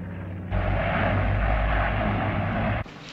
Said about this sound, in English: He's up in his plane.